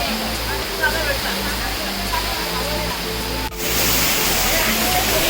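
Monsoon waterfall near a Khandoba temple at Bhatwadi, a steady broadband roar of falling water that swells louder partway through, with faint voices underneath.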